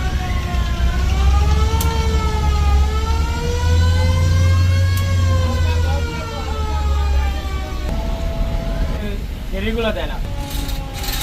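A steady, deep engine drone from the passenger launch MV Al Walid-4 on the Ilisha route rumbles throughout, with wavering tonal sounds and voices above it.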